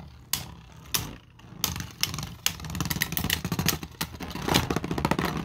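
A V8 car engine in a racing video game revving and downshifting, with rough rhythmic pulses and several sharp gear-change blips rising and falling, loud and close with no talk.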